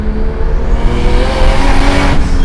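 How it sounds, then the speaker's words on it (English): A Nissan 240SX with a swapped-in 500 hp GT-R engine revs hard and loud up close, its roar rising and holding steady with a harsh, throaty tone. "this has a GT-R engine, and it's fast"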